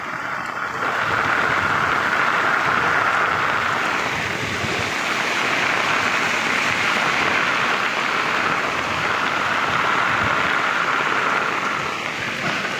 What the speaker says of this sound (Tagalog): umulan, bumabagyo. Salamat sa ulan.